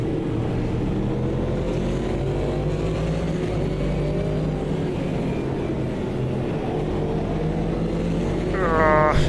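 Race car engines in the Automobilista 2 video game during an endurance race near a Porsche, a steady droning roar with a higher revving whine rising sharply at the very end.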